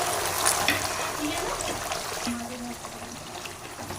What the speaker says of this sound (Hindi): तो ये देखें पानी हमने डाल दिया है।